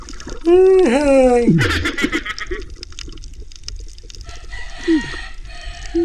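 A loud rooster crow opens close up at night on a Philippine shore, then softer clucks and short calls follow amid background noise.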